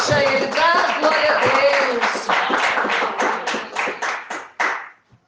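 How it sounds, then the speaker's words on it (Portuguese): A church congregation claps hands together during an evening service, strong rhythmic clapping over singing voices and musical sound, the beats growing sparser and distinct before stopping abruptly near the end. "vamos bater palmas bem forte para Jesus"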